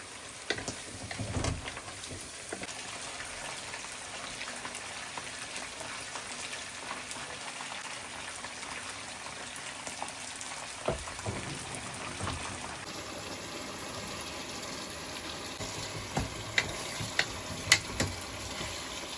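Fish frying in a pan, a faint, even crackle like light rain that continues throughout, with a few small pops and clicks toward the end and no voices.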